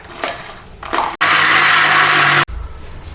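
Kitchen mixer grinder blending roasted spices into a paste for a country-style chicken curry: a single loud, steady whirring burst of just over a second, framed by softer handling sounds before and after.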